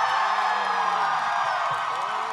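A live audience at a voice-actor panel roars, cheers and whoops in a show-of-applause vote for Liam O'Brien; a dense, loud, continuous crowd noise fills the whole moment without a break.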